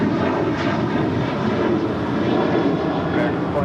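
An airliner roars down runway 25 right at LAX on its takeoff run, a steady, loud, broadband engine rumble that holds throughout, with voices faintly underneath.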